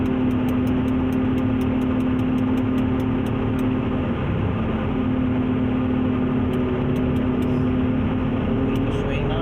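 A Terex Demag AC160-2 mobile crane engine runs steadily at a low idle-like drone while unloading a structural platform from a trailer, with repeated faint high ticks and a voice talking over it.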